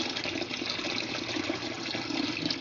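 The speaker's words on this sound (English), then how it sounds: "So I'm going to fill this up with water." Tap water streams steadily into a container of dried chickpeas, a continuous close splashing rush with no voices over it.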